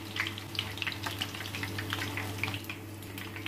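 Chicken leg kebabs frying in a pan, a steady soft sizzle with faint crackles running evenly throughout, no talk.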